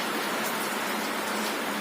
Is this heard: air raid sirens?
no